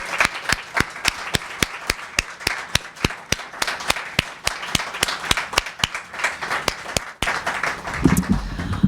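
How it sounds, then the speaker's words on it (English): Rhythmic clapping rings out at a literary magazine issue release party as a small audience applauds the readers, crisp evenly spaced claps close by, with a brief pause and a scuffle near the end. "Let's have another round of applause for all of the readers."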